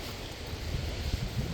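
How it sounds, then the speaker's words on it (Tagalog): Rough sea waves wash and churn steadily on an island shore on a cool, breezy morning, a broad continuous roar with irregular low surges, close and fairly loud, with wind buffeting the microphone. "Medyo maingay yung alon ngayon."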